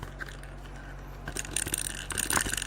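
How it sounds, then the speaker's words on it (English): A small survival whistle from an emergency kit is shaken so the little ball inside rattles, giving a run of light, close clicking and jangling taps against low background hum. "That noise you hear is the little ball that the whistle has."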